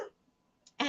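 A single short cough or throat clear comes at the very start, then a near-silent pause before a louder burst of noise closes the moment.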